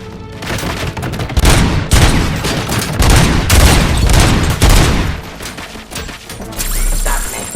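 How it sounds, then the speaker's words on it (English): Loud, sustained gunfire in Robocop: Rogue City fills the scene, a dense run of shots and heavy impacts rolling on with no break, ending in a brief quieter moment with a faint electronic tone. "Just keep shooting."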